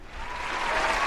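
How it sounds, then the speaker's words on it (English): A brief burst of crowd applause, dense steady clapping that swells slightly over one second, loud and close with no speech. "Give that man a round of applause."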